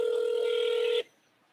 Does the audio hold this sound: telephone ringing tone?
yes